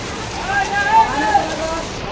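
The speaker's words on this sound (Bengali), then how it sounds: "বৃষ্টি আইসে পড়ছে, আমি আর বাঁচতে পারি না বৃষ্টির হাত থেকে" Heavy rain pours steadily onto a flooded city street, a dense, even hiss of water heard up close, with a few faint tonal sounds drifting through it.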